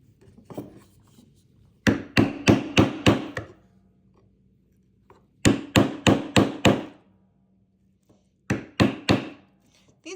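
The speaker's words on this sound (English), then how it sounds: "Hammer." A hammer taps a chisel while a violin scroll is being carved, close and crisp: three bursts of four to six rapid, evenly spaced wooden knocks separated by short pauses.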